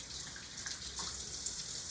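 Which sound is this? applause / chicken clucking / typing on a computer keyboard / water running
water running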